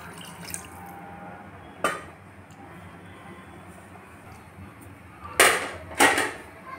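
Water poured into a radish tamarind curry simmering in a pan, a few short splashing pours at close range separated by a quiet cooking murmur, with no talk.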